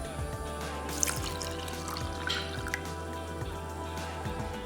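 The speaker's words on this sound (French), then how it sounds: "Je mets la levure dans un verre et je rajoute 150 ml d'eau tiède." Warm water being poured into a glass containing yeast, a light trickling and dripping splash over a low background hum, faint and close, with no talk.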